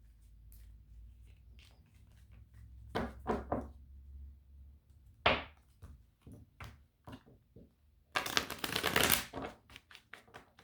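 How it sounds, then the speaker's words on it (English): Tarot cards are shuffled close up in scattered quick riffles and taps, with a longer, louder flurry of shuffling near the end. "I'm going to shuffle a little bit more for Libra"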